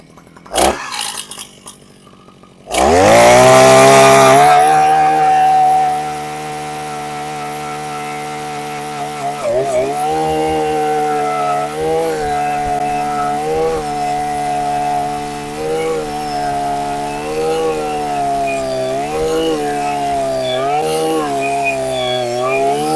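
Husqvarna 541EA petrol earth auger drilling a hole: a few faint knocks, then the two-stroke engine starts and settles into a loud, steady drone that rises and wavers under load.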